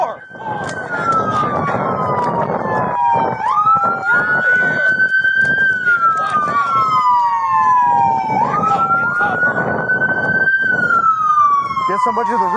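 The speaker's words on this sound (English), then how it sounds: "City siren." Police car sirens wailing loud and close at a store during a murder suspect search, a steady rising and falling wail repeating through the clip, with shouted talk and radio chatter mixed in.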